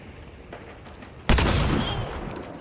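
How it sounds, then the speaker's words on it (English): A shotgun slug fires in the video game Hunt: Showdown, one loud close boom that rolls into a sustained rumbling tail after a quiet lead-in. "That was a headshot with the slug."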